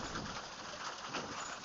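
Rain falling during a saltwater fishing outing in stormy weather, a steady, even hiss of drops on a surface that stays constant throughout, fairly quiet and with no talking.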